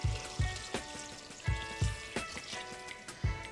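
Water poured into a cooking pot for a bean dish with beef stock cube, a faint splashing trickle with irregular soft bursts of drips and glugs, close and alone.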